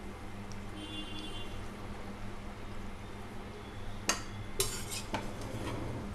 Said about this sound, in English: We have to gently mix the biryani rice like this.